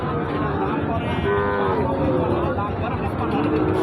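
Cattle, including Sahiwal cows, low and moo at a busy livestock market. Drawn-out calls rise over a dense crowd murmur of people talking and bargaining nearby.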